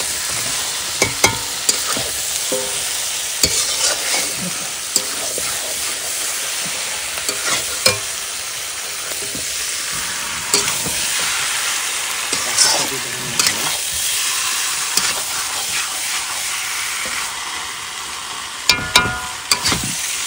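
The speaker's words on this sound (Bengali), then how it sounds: "মাংসটা দিয়ে দিই। কষিয়ে নাও," Chicken meat being stirred and sautéed with spices in a pan over a charcoal fire, a steady frying sizzle with repeated scraping stirs and clinks throughout.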